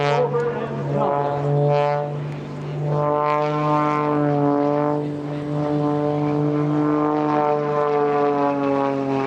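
Aerobatic propeller airplane flying a vertical roll at the EAA AirVenture airshow, its engine drone a loud sustained harmonic whine that rises and falls in pitch, with a brief dip in level midway through the roll.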